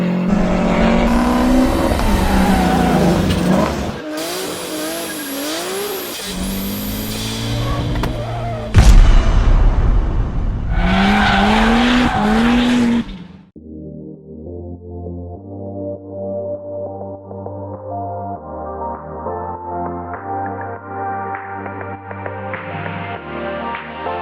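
A Mazda RX-8 fitted with a Racing Beat exhaust revs hard and pulls away in loud, rising bursts for about thirteen seconds, then the engine gives way to steady music.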